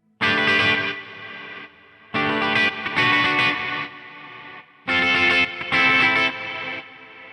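An electric guitar plays through a Quad Cortex reverb with sawtooth-up modulation switched from a Morningstar MIDI controller. Three loud, distorted chord phrases each swell and shimmer, then cut off sharply into a lingering washy tail, with no talk.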